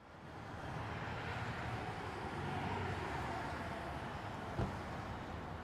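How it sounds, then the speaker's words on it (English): Ambient parking lot sound effect: a steady, broadband wash of distant traffic and open-air rumble at moderate level, with one brief knock near the end and no voices. "this ambient parking lot"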